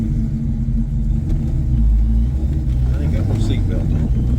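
A 1995 Ford Mustang GT engine rumbles deeply and steadily during a ride along a gravel road, a loud low drone with a voice talking over it.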